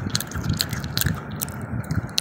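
Chow mein noodles with fried egg are stirred and tossed in a pan at home, giving soft, close, wet squishing and scraping bursts in a loose rhythm with faint background murmur.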